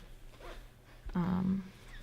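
A zipper being handled on a fabric skirt during sewing, one faint short tug followed by a louder close zip of about half a second, heard alone in a quiet room.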